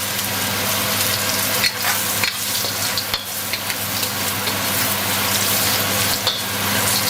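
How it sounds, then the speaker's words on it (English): Shrimp paste powder, Indonesian bay leaves and galangal root sizzle steadily in a pan over moderate heat, a close continuous fry with occasional scrapes of stirring and no voices. "Give this a continuous stir for about a minute and don't cook this on high heat."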